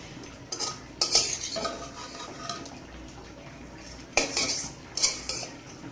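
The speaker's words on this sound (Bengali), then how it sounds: "এই যে এবার ভেজে রাখা মাছগুলো আমি দিয়ে দেব" Fried hilsa fish pieces go into a metal pot of gourd curry. A utensil clinks and scrapes against the pot in a few sharp, close bursts over a low kitchen background.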